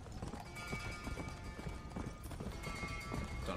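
Horse hooves galloping in Red Dead Redemption Undead Nightmare, a dense, continuous clip-clop at a steady fast rhythm, fairly faint and close, with no talk.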